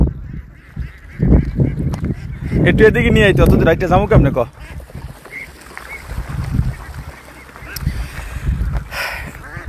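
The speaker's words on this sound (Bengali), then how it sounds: "এখানে 1000 হাঁসের বাচ্চা বড় হয়ে গেছে" About a thousand young ducks on a farm honk and quack in a loud, clustered burst close by, mixed with someone talking.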